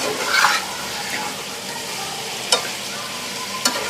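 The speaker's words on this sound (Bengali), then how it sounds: "মশলার সাথে কষিয়ে নিচ্ছি।" Tengra fish cooks in spice paste in a pan, a steady sizzle of frying under repeated stirring, with a louder scrape near the start and two sharp clicks of the spatula later on.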